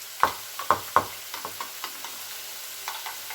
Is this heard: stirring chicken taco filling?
yes